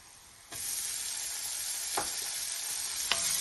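Chopped tomatoes drop into a frying pan of sizzling onions, setting off a steady, loud sizzle with a few sharp bursts as pieces hit the hot oil.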